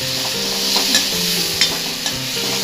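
Madhusoleng leaves frying in a wok, a continuous bright sizzle with occasional scrapes and taps of a stirring spoon, close and alone without speech.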